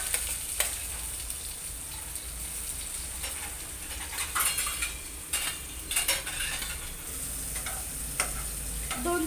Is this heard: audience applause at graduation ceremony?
no